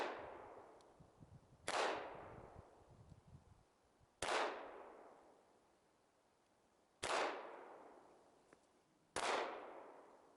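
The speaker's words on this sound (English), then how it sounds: "So I'm shooting the Glock at the target on the left." Four sharp, loud Glock 17 pistol shots fired at a target, spaced a couple of seconds apart, each crack followed by a long ringing echo that fades slowly.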